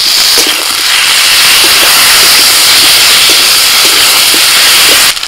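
Taro and potato with chopped onion and a spoonful of ginger, garlic and green chili paste sizzle in a pan, a steady loud hissing fry with faint crackles and no talking.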